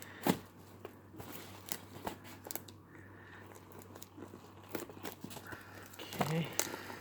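A cardboard shipping box made of virgin cardboard is cut open, with scattered scraping, crinkling and crunching cuts and a sharper burst near the end, fairly close amid quiet room noise.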